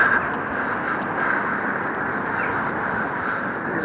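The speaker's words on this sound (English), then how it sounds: "Very windy here." Strong wind buffets the microphone at the Avebury stone circle, a steady broadband roar that holds unbroken throughout with no voices.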